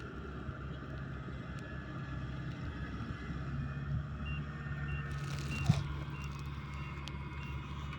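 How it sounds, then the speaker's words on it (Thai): A hired rice harvesting vehicle works in a paddy field, its engine droning steadily while a reversing alarm beeps repeatedly in an even rhythm, with a brief knock partway through. "วันนี้จ้างรถมาเกี่ยวข้าว"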